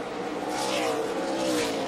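NASCAR Nationwide stock cars racing around Bristol's short oval, a continuous roar of several engines at high revs with pitch sliding as the field passes, loud and unbroken.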